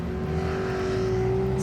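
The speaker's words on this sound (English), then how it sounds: "Check out this drift car." Engine of a drift car at a drifting event, a steady droning hum holding an even pitch throughout, fairly loud with no talking.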